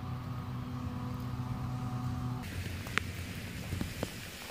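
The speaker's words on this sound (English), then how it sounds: "It's still pouring down rain." Steady heavy rain pours down outdoors beside a culvert, a continuous dense hiss with a low rumble and a few sharper drips or taps, with no talk.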